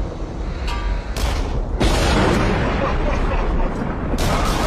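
Gunfire and loud booming blasts from the VR horror shooter game Rush of Blood, a sustained, dense barrage of shots and explosions, close and loud throughout with sharp bursts on top.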